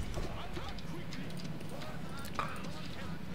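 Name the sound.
horse archers galloping in Rome: Total War video game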